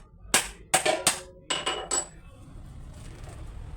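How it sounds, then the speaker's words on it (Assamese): Bael fruit cracked open with a kitchen pounder, giving a series of about five sharp, close knocks and cracks in quick succession, then a quiet tail. "মই এটা খুন্দনা মাৰি লৈছোঁ আৰু বেলটো ফালি লওঁ"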